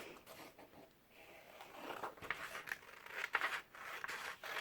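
Scissors cut along a folded seam in paper card for a heart-shaped craft card, making quiet close snips and rustles in short irregular bursts.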